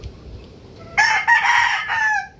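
A rooster crows once, loud and close, its call rising and holding for over a second with a brief break, over quiet background hiss.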